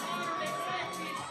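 A crowd at a weightlifting competition, the New Jersey Invitational, cheers and shouts in a sustained, moderately distant roar of voices.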